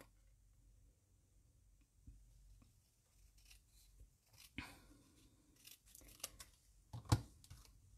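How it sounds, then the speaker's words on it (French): Scissors cut a paper label close up, making quiet snips and crisp paper rustles that build into a run of small irregular cuts, with no talking. "j'ai recoupé mon étiquette au ciseau"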